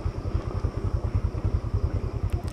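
A motorcycle engine labours up a coastal road in Gutalac, thumping in a steady low, rapid rhythm that stays close and loud, with no talk over it.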